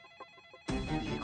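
A phone ringtone bursts in loudly and suddenly after a moment of quiet, faint tones, ringing close by with no talking, in a scene from the Hindi film Velle (2024).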